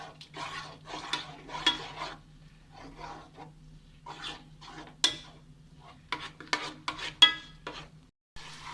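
Spoon scraping and stirring tomato puree through a prawn biryani masala in a pan, a series of short irregular scrapes over a low steady hum.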